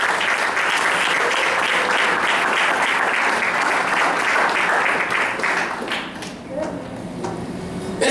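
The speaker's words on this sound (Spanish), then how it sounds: "Bríndense un aplauso," A church congregation gives a warm, steady round of applause that holds for several seconds, then thins out and fades, with a voice faintly present as it dies down.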